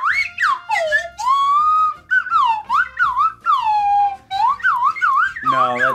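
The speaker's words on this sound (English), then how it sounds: "Here, I can play it on the slide whistle." A slide whistle plays a bright, swooping melody, pitches gliding up and down in short phrases, loud and close with no talking.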